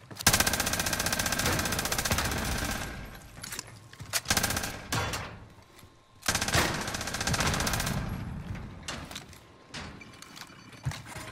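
A machine gun in Call of Duty Warzone, Cold War, on Rebirth Island fires long sustained bursts of rapid close shots, pausing briefly between volleys, with scattered single shots afterward and no talking.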